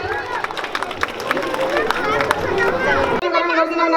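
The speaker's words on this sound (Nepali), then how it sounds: "ताली बजाएर स्वागत गर्न हार्दिक अनुरोध गर्दछु भाइ बहिनीहरूलाई" Students at a school's silver jubilee clap to welcome a guest, a dense crowd of hands pattering continuously with chatter and voices mixed in before cutting off abruptly near the end.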